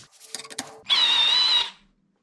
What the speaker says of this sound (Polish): Zobaczmy w takim razie, jak to samo zadanie dokończymy, gdy przestawimy na tryb wiercenia.